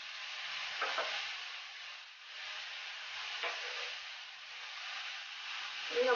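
Vegetables for a veg momo filling sauté in a pan, giving a steady broadband sizzle with faint stirring scrapes, close and continuous.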